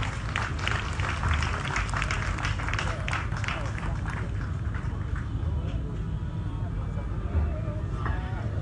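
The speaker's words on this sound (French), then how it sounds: "M. Yaya Sow, sous vos applaudissements, s'il vous plaît." Steady applause from a crowd at a foundation stone laying ceremony fills the space in a dense, continuous patter, with voices talking over it.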